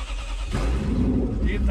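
A car engine fires up on a Bentley limousine converted to run on tracks, a low rumble swelling in and holding steady under a man's brief speech.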